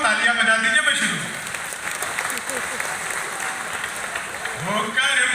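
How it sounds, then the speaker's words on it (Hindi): An audience claps at a Hindi kavi sammelan poetry gathering at Bokaro Club, a dense, steady round of applause filling the middle few seconds, with a voice speaking before and after it. "तालियां बजा दीजिए"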